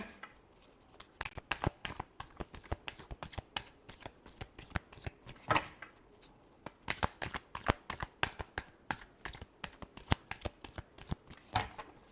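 Tarot cards being shuffled by hand in rapid riffling bursts, a dense run of crisp flicks and snaps close up, pausing briefly before continuing, with no speech.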